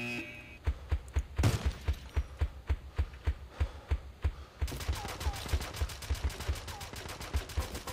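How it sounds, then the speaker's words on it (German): Rapid gunfire in the video game BeGone: sharp shots repeat in an even, steady rhythm, then speed up into a faster automatic burst for the last few seconds. "jetzt schießt er auf mich"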